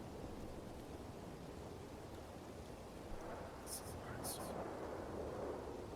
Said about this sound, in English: I could barely hear you in the rain